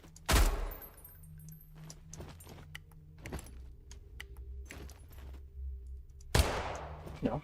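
Video game gunfire: one loud sharp shot at the start and another near the end, with quieter mechanical clanks and rattles between them.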